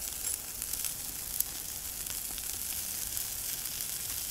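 Chicken wings sizzle on a charcoal mangal, a soft, steady crackling hiss with occasional tiny pops, fairly faint and without voices.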